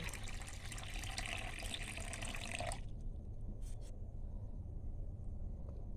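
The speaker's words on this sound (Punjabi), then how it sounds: "ਆਪਾਂ ਨੇ ਪਾਣੀ ਪਾਣੀ ਦੇਖਦੇ ਆਪਾਂ ਕਿੰਨਾ ਪੈਂਦਾ" Water is poured into jaggery for malpua batter, a steady splashing stream for nearly three seconds that stops abruptly, leaving a quiet room with a few faint clinks.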